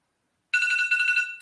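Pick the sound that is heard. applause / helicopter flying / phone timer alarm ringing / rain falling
phone timer alarm ringing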